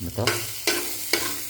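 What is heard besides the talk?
stirring leftover rice frying in a pan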